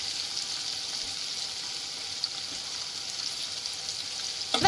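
Freshly picked chopped tomatoes frying in a pan for a snakehead fish curry, giving a steady, even sizzle that runs alone at moderate loudness from start to end.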